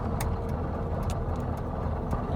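A truck hauling sugar beets drives toward a sugar factory, a close, steady engine rumble with low road noise and a few faint clicks over two seconds, no speech.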